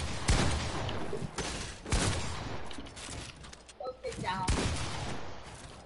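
Gunfire from a box fighting video game, several loud bursts of shots spaced across the moment with game noise between them, and a voice talking in the background.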